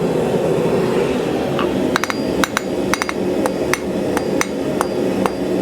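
A hammer forges a steel ring on an anvil in a workshop, delivering about a dozen sharp, ringing metallic strikes in irregular pairs and singles over a steady low background hum.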